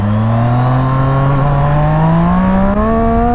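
Triumph Street Triple motorcycle accelerating hard in first gear at night, a loud, steady engine note climbing continuously in pitch across the clip with no talk.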